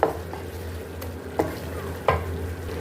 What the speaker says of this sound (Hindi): अब इसको हम अच्छे से मिक्स कर लेते हैं। दो से 3 मिनट को हम भून लेते हैं अच्छे से।